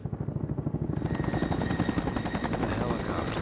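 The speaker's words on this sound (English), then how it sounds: "Oh, there is a chopper." In the video game XIII Remake, a helicopter's rapid, throbbing rotor chop grows louder and fuller as it moves overhead, with a hint of gunfire under it and some voice in the mix.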